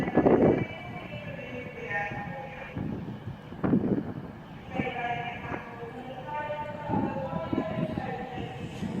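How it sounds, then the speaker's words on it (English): An 11-coach Virgin Pendolino train pulls into Crewe station, with rhythmic wheel clatter over rail joints and brake squeals over platform ambience. "It's an 11 coach Virgin Pendolino, as the tannoy woman's just told us."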